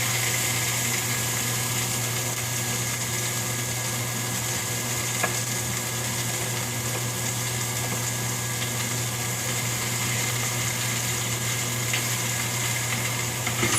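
Artichoke hearts and mushrooms frying in olive oil in a pan over medium heat, giving a steady, even sizzle with a low hum throughout, close and continuous with no talking.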